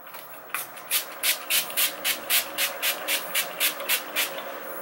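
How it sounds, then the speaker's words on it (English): A spray bottle pumped repeatedly, about a dozen short, even hissing squirts in a steady rhythm, close by and fairly quiet. "I'm gonna spray."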